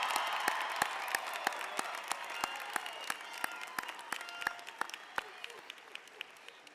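A crowd applauds the graduating class of NYPD recruits at a Police Academy ceremony, with sparse, distinct claps ringing out over a softer wash of clapping that slowly thins and fades.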